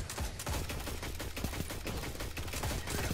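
Rapid, loud bursts of gunfire from the Loquitor IV weapon in a Destiny 2 Crucible match, shots repeating in quick succession over steady game noise.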